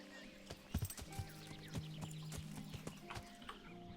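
Horse hooves clop on the ground in the Kingdom Come Deliverance video game, a quick run of close, uneven thuds that settles into a softer background as the horse arrives, with a faint whinny amid the game's ambient sounds.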